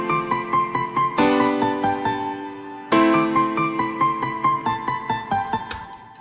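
A plain IV-V-VI chord progression plays as bright struck keyboard-like chords, each new chord entering with a sharp attack, with quick repeated notes ticking over them.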